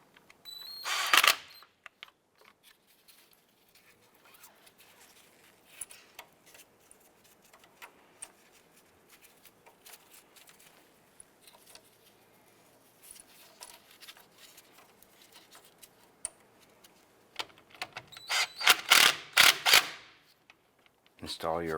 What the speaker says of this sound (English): let's go ahead and snug these down.